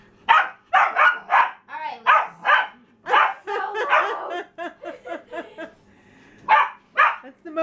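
A dog barks repeatedly in quick, high yappy bursts close by, with short pauses between volleys and a bit of playful yipping.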